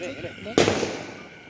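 A single sharp firecracker bang bursts out at a Diwali celebration after a moment of voices, followed by a short crackling decay as the talk stops.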